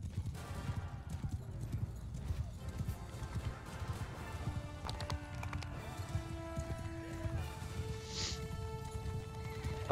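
Horse hooves clip-clop in the video game Mount & Blade, a busy stream of rapid hoofbeats with whinnies, game effects and tonal sounds layered over a constant low rumble.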